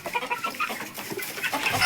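Laying hens cluck close by in a busy, overlapping chorus of short, repeated calls that carry on steadily without a break.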